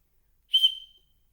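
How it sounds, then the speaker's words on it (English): A single short, shrill whistle blast in a classroom, sharp and piercing for about half a second and heard alone against silence. "So I got smarter and I got a whistle."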